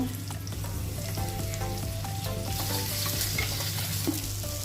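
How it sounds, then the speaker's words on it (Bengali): Onion, ginger and garlic fry and get stirred in a pan for an egg curry, a steady loud sizzle with scraping stir sounds running throughout, close by, with no talking. "পেঁয়াজ, আদা, রসুন এটা একটু আমি খোলাতে নেড়ে চেড়ে তারপর আমি এটা মিক্সারে পিষে নেব।"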